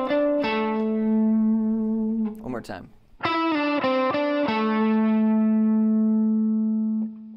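Distorted electric guitar lick played with effects, held notes kept straight with no vibrato or string bending, loud and sustained, with a short spoken remark in the middle.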